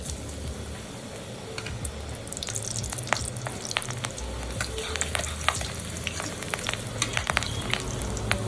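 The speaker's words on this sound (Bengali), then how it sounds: "আমাদের কড়াইটা গরম হয়ে গেছে আর তেলও গরম হয়ে গেছে আমাদের তো এবারে আমরা একের পর সব কিছু ফ্রাই করে নেবো এবার আমরা গাজরটা দিয়ে দেবো" Carrots fry in hot oil in a wok, a steady close sizzle broken by sharp scraping stirs and clicks of the utensil, with no talking.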